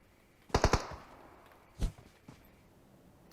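Gunfire in the PUBG Mobile video game: a quick burst of three or four sharp shots, then a single louder report and a fainter pop, standing out against a quiet background.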